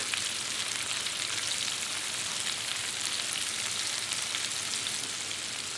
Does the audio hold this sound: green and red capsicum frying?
yes